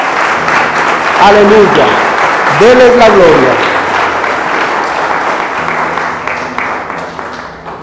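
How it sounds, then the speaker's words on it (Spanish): A church congregation claps and cheers in praise during a sermon, a broad wash of applause under a preacher's loud voice, fading out toward the end. "Démosles aplauso a Jesús."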